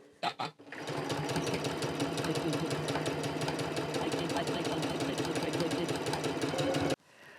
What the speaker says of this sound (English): Now we're going to take it to the sewing machine and we're going to sew around that circle.